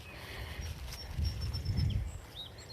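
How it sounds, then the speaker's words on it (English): Birds chirp faintly in a spring garden along a narrow path between spruce trees, brief high calls scattered over low rustling and footsteps, with no talking. "And you can hear the birds."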